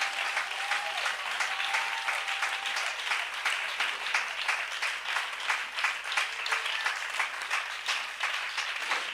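A church congregation applauds during a worship service with sustained, dense clapping for about nine seconds. It is steady and moderately distant, with no clear voices.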